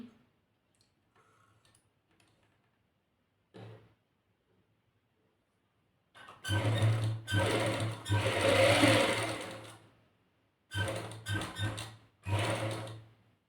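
A sewing machine stitches lace onto fabric for patchwork sleeve cuffs in several short bursts of rapid mechanical whirring and ticking, with quiet pauses between runs.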